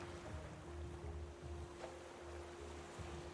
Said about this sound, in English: The waves are crazy. Big waves.